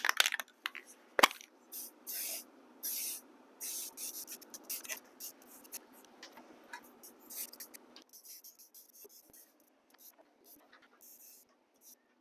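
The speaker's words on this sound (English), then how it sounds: "paint that area of track with some Rust-Oleum dark brown camo" Short hissing spray bursts of Rust-Oleum dark brown camo paint onto model railroad track near a future tunnel, repeated in quick pulses over the first half, then fainter scattered bursts against a quiet background.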